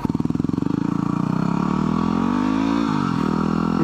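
A Yamaha WR250R motorcycle engine runs steadily up close, starting with a rapid pulsing idle beat that smooths into a continuous drone as revs rise slightly, with a brief pitch dip near the end; no talking.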